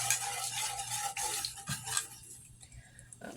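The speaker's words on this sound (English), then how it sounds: "Stirring it up a little bit here." A utensil stirs homemade caramel in a pan, giving soft scraping and light clinking at close range, fading quieter toward the end.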